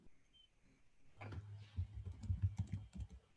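Quiet keys clatter on a computer keyboard in a short, uneven burst of typing close by, with no talking.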